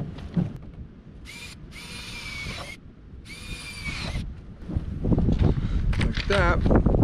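A drill with an 11/16 inch bit bores holes in a plastic half barrel outdoors, sounding two distinct high whirring bursts under wind noise, followed by further rough handling sounds.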